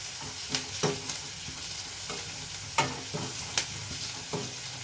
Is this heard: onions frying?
yes